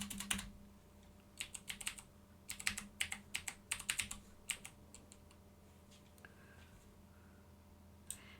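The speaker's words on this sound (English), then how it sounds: "I'm gonna type it in." Typing on a computer keyboard during a podcast: quick, close bursts of key clicks in uneven clusters, then a few scattered taps as the typing slows, with no talking.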